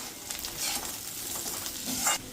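Eggplant frying in hot oil with asafoetida and turmeric for ennai kathirikai kuzhambu, a steady close sizzle with stirring scrapes and a brief louder crackle near the end.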